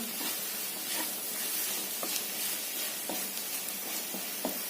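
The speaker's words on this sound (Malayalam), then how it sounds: "ഇടയ്ക്കിടയ്ക്ക് ഇതുപോലെ ഒന്ന് ഇളക്കി ഇട്ട് കൊടുക്കണം." Mushrooms sizzle steadily in a hot pan while a utensil scrapes and stirs now and then, giving a few soft knocks over the constant hiss.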